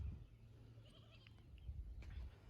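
Goat bleating on a farm where young goats are kept apart from a buck, a faint, distant, brief wavering call over low background rumble.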